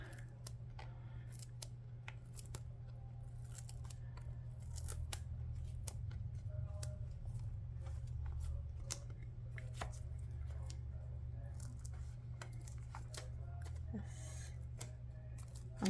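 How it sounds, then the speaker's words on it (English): Scissors snip repeatedly through binding tape on a DIY journal, producing quiet, close, irregular crisp clicks and snips over a low steady hum, with no talking. "I think I need to cut more of this binding tape off"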